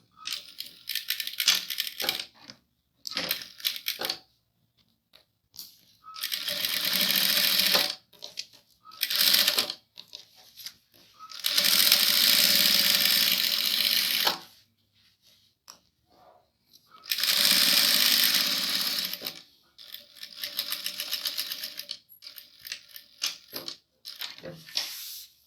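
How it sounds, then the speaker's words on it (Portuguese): A sewing machine runs in bursts while stitching a bunny backpack, rapid rattling runs of a few seconds each separated by quiet pauses and small handling clicks. "nós vamos para a máquina e costurar"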